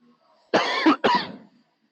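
Two harsh, close coughs from one person in quick succession, loud and dry, with near silence around them.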